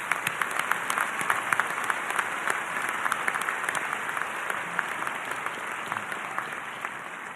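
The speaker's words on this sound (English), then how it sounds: "Let's hear a thankful round of applause." At a high school commencement ceremony, the crowd gives parents a thankful round of applause, with steady, even clapping from many hands in a large space and occasional sharper individual claps standing out.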